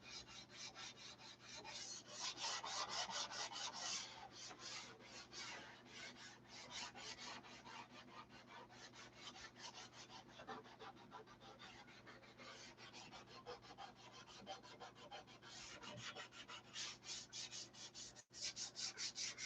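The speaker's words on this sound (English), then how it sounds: "Sanding and sanding and sanding." Steady, continuous rasping of sandpaper rubbed back and forth over wood, close and rhythmic, with no talking.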